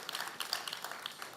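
Applause from an audience at a university media center naming ceremony honoring a trustee, a soft, steady patter of many hands at a distance, fairly faint throughout.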